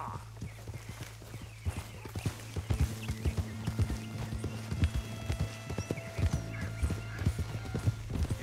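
A horse in Red Dead Redemption 2 canters along in game with rhythmic clip-clop hoofbeats and a whinny early on, over a low steady hum and light game ambience.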